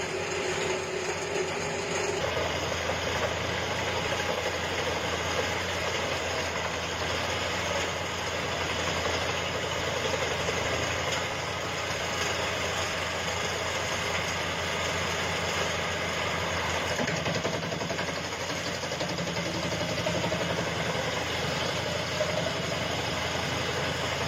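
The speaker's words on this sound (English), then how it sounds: "A powerful wood-cutting machine in action." A Petzolato PTH 40.70M forestry wood-cutting machine runs with a continuous loud, steady engine drone and a mechanical hum that barely changes over the whole stretch.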